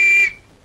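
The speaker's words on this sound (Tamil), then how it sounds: "அப்புறம் ஏன் விசில் ஊதுற?" A single loud, shrill whistle blast held steadily for about a quarter second, then cut off abruptly into near silence.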